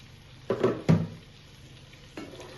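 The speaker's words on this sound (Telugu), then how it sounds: "ఒక 1 మినిట్ హై ఫ్లేమ్లో పెట్టి కట్టేసుకుంటే చికెన్ ఫ్రై అయిపోయినట్టే" Chicken fries on a high flame in a pan, with two short bursts of stirring and sizzling close by, then a quieter scrape a moment later over a low background hiss.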